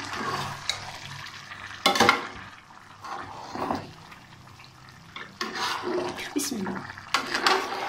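A spoon stirs rice with potato and vadiyan (sun-dried lentil dumplings) in a pot, giving irregular bursts of scraping and sizzling, louder at moments, over a continuous cooking hiss.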